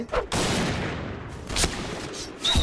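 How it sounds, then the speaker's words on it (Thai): Sniper rifle gunfire in the Point Blank video game, likely a Kar98K, DSR-1 or SSG-69, heard as three sharp, loud shots spaced over a couple of seconds. "เสียงกระสุนจะค่อนข้างเบานะครับ"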